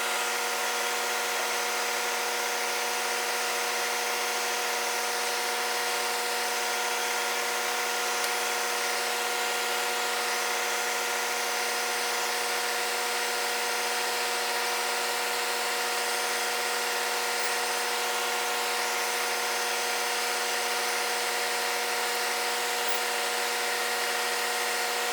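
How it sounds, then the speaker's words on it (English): A power tool whirs steadily as a wooden pen blank is sanded, an even, unbroken mechanical drone up close with no pauses. "I'm going to do some sanding."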